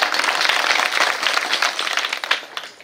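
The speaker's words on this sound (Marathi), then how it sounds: "यांच्यासाठी एकदा जोरदार टाळ्या" A dense wash of audience applause fills the hall for the singers at a Marathi kirtan, many hands clapping loudly and continuously for about three seconds before starting to thin out toward the end.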